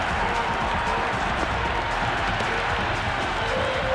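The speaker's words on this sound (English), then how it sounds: "The crowd is electric right now." An IPL cricket stadium crowd roars in a dense, steady wash of cheering and clapping after a big shot over the rope, loud and unbroken throughout.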